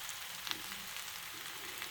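Smothered potatoes and onions fry in a pan with a soft, even sizzle and faint crackles, quiet and steady without anyone talking.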